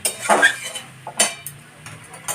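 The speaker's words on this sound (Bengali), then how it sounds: "এবার আমি ভালো করে নেড়ে নিচ্ছি।" A spoon scrapes and clinks against a pan as shrimp curry for a spinach and shrimp ghonto is stirred. The sound comes in a few sharp metallic knocks spaced apart, fairly close, over a quiet background.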